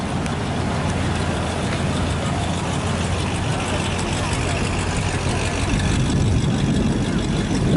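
A gasoline engine on an original Wisconsin Duck amphibious shuttle fitted with a new exhaust idles in a steady low rumble, continuous and fairly close, with people talking over it.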